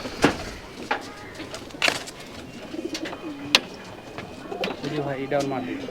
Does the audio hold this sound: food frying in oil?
no